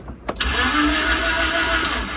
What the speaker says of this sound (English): So we've got front and rear engines cranking with the key.